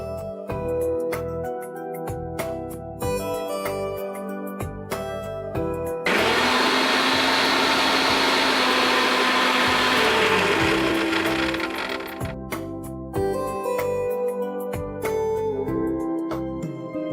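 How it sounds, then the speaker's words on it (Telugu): A kitchen mixer grinder whirs loudly for about four seconds, blending spinach, coriander and green chillies with a little water, its steady roaring whine standing out against quieter tonal background sound before and after. "ఇప్పుడు దీన్ని మిక్సీ పట్టేసుకో"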